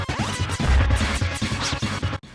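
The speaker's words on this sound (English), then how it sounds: "The crashing sound effects of this new, heavier boss as he jumps around is really awesome" A heavy boss in the Super Nintendo game TMNT Turtles in Time lands in a rapid series of loud crashing thuds as it jumps around, each impact booming and clattering close up.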